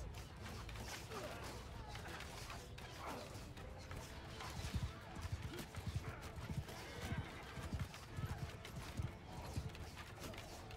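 Horses gallop in the Bannerlord video game battle, a steady patter of hoofbeats amid clashing and rumbling combat noise, with a voice briefly heard.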